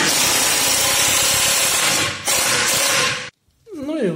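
A power screwdriver whirs steadily as it drives a confirmat screw into an MDF door frame, running loud for about three seconds with a brief dip, then stopping before a voice begins.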